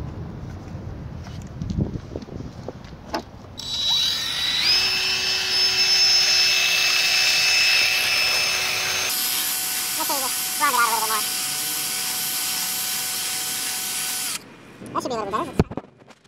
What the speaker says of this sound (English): I'm just gonna just open this hole up a little bit with the drill